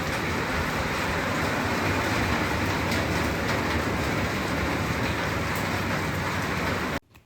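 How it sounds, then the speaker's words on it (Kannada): Heavy rain falls steadily as a dense, continuous roar that stays loud and even, then cuts off abruptly near the end. "ಮಳೆ ಹಿಂಗೆ ಬರ್ತಿದೆ ನೋಡಿ, ನಮ್ಮೂರ ಸೈಡೆಲ್ಲ ಫುಲ್ಲು ಮಳೆ."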